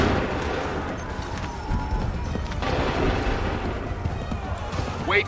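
A volley of musket fire rolls out in Assassin's Creed 3, a dense, rumbling mass of shots and booms with battlefield noise continuing underneath.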